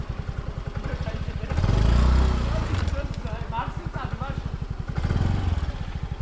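A moped engine runs close by with a steady rapid putter and swells twice in revving bursts on a rough off-road track near a monastery, with people talking over it.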